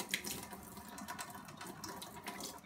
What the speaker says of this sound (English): So I take some water, and I pour it in here.